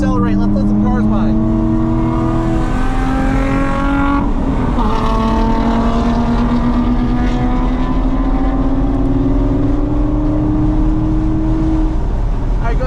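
Race cars roar past on the Burt Brothers Motorpark East Track. Loud engine drone runs throughout, with pitch sweeping as cars pass close by near the middle, then a sustained rising howl.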